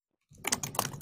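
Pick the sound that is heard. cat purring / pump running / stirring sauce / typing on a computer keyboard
typing on a computer keyboard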